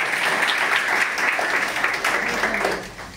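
Steady applause from a crowd at a marketing plan talk, dense clapping that holds at an even level throughout without pause.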